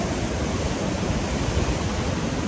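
Sea waves wash onto a Konkan beach at Devbag, a broad, continuous roar of surf and churning water that stays fairly loud and even, with no voices.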